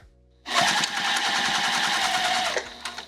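Sewing machine stitching a patchwork zipper case, starting abruptly and running as a fast, even mechanical rattle for about two seconds at close range before winding down and stopping.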